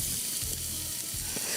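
A coarse soffritto fries in oil, a steady bright sizzle with crackling and faint stirring, close and continuous throughout with no talk.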